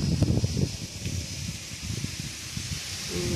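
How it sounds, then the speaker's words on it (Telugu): Wind blows through a peepal tree on a hill, a soft rushing hiss with leafy rustling and low gusty rumble against the microphone, fairly faint and continuous. "గాలి చూడండి ఒకసారి సౌండ్ వినండి. గాలి సౌండ్ ఎట్లా వస్తుందో."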